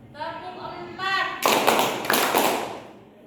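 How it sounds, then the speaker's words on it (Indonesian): A group of children clap their hands together in a group guidance session, a burst of fairly loud, rapid, overlapping claps lasting over a second. A speaking voice comes just before the clapping. "tepuk satu. Tepuk dua. Tepuk tiga. Tepuk empat."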